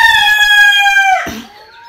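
A single Australorp chicken crows loudly and close by, one drawn-out crow that ends abruptly and gives way to quiet.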